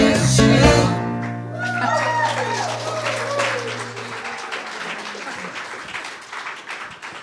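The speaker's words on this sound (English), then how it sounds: "Let's a round of applause for our dear Rev Edith, for our band." A congregation applauds the band and Rev. Edith Washington-Woods at a church service: a dense patter of clapping follows a held musical chord, then gradually thins and fades with some voices mixed in.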